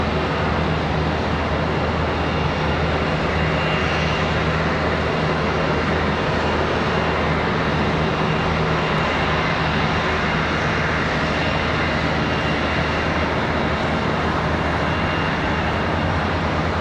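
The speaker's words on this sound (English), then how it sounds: "CRJ and a couple of A321s coming around the corner." Steady, broad jet engine roar from a CRJ and A321s taxiing at Charlotte Douglas airport, continuous and fairly loud throughout with a low droning hum underneath.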